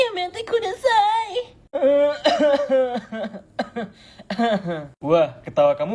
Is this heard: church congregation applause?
no